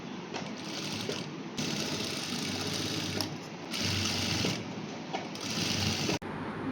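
A sewing machine stitches a folded hem on a full skirt, its rapid mechanical whirr running in bursts with brief pauses, close and steady.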